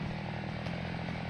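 A grass cutter's small engine runs steadily at constant speed, a loud, close, buzzing drone with no pauses or voices.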